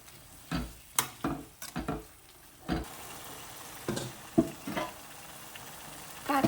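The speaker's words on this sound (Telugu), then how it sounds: "బాగా నూనెలో ఇలా కలబెట్టుకుంటా ఉండాలి" Bitter gourd chutney is stirred in hot oil, giving a quiet sizzle under repeated scraping and clacking strokes of a spoon against the pan at an uneven rhythm.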